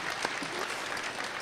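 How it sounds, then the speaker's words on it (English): Brief burst of applause from a college audience at a clean energy event in Santa Barbara, a dense steady patter of clapping from a crowd, moderately loud with no voices. "So you should give yourselves a round of applause."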